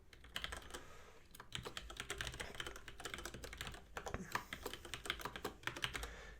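Login details typed on a computer keyboard, a rapid, uneven run of close key clicks continuing steadily throughout.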